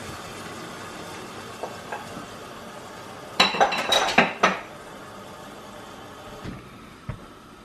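A metal lid clatters onto a cooking pot of curry chicken feet, a quick burst of several clinks and knocks, fairly close, followed by quiet and a couple of faint later taps.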